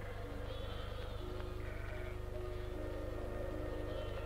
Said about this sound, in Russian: в колхозе 54 тысячи голов чистопородных овец